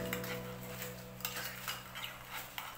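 A spoon scrapes and clinks around a bowl while stirring a simple garlic mayo sauce for shawarma rice, giving soft, quiet, irregular taps over a low steady hum, with no voices.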